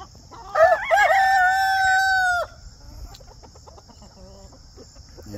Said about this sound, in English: it's too much noise from the roosters